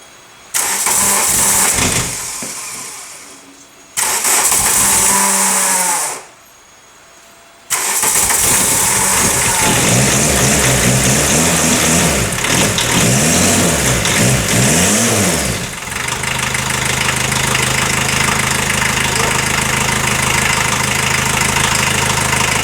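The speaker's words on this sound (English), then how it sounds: "I need to fire it up and run it till at least the thermostat opens and the water circulates" A 1980 VW Rabbit Caddy pickup with a turbo diesel engine cranks, stalls, cranks again and catches, then settles into a loud, steady, clattering diesel idle that runs on close to the microphone.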